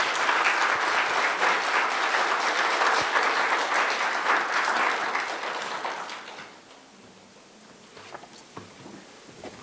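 Lecture-hall audience at a symposium welcomes a professor with loud, sustained applause for about six seconds, then it fades to scattered claps and quiet room noise.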